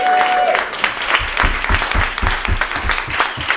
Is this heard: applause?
yes